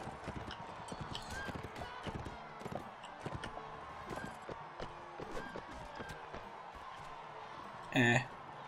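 Faint, irregular clip-clop of horse hooves in the video game Mount & Blade: Warband, with a short louder burst of sound near the end.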